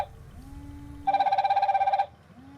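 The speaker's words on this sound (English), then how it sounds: "This is the watch ringtone because the phone is in silent mode." A DT8 Ultra smartwatch plays its ringtone for an incoming call: a bright, rapidly pulsing electronic trill of about one second, clear and close, with faint tones before and after it.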